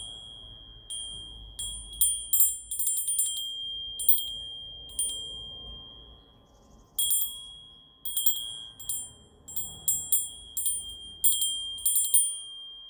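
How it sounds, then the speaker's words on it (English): High, delicate fairy bells chime in repeated bursts of quick tinkling, pausing briefly between clusters, with a faint steady tone underneath. "I'm also going to do some fairy bells."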